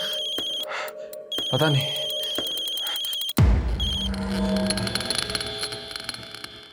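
A phone rings with bright, repeating electronic tones for a few seconds before the ringing cuts off into a noisier room where someone speaks briefly.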